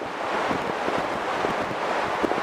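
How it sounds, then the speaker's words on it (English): Strong wind on a hilltop buffets an outdoor microphone, a constant loud rumbling roar of gusts with no voices over it. "I hope the wind, it's been so windy up here,"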